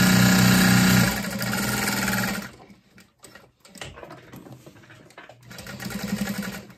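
A sewing machine stitches a messenger bag strap, running loud and rapid for a couple of seconds, dropping to quieter handling noise, then whirring again near the end; a voice briefly speaks.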